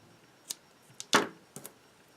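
Scissors snip excess yarn from a small loom-knit striped hat, giving a few quick, quiet cuts close by, with one slightly longer snip in the middle.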